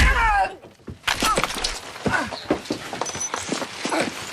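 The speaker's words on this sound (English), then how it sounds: "Crashing through the wall stuns Driver long enough for the bride to get her into a chokehold" A person crashes through a wall in a film fight scene: a loud burst of breaking debris, followed by a string of sharp impacts, thuds and scuffling as the struggle continues.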